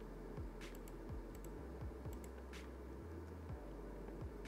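A computer keyboard is tapped a handful of times in short, faint clicks over a low steady room hum while network port settings are copied and pasted.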